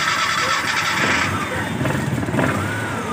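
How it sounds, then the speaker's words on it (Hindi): A Maruti Eeco van with a misfire and silencer problem starting up, its engine turning over and settling into a rough, vibrating idle, loud and close throughout with no talk. "अब देखिए स्टार्टिंग के टाइम में इसकी इंजन की आवाज़ देखिए, ये बोल रही है।"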